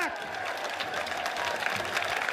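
A crowd gives steady applause as parachutists land at an outdoor display, continuous moderate clapping with a voice talking over it.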